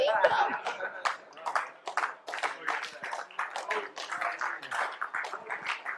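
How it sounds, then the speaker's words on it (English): Scattered, uneven hand claps from a church congregation at a deliverance workshop, rippling through the room for several seconds with faint chuckles and murmuring mixed in. "There's some dead claps too, ain't there?"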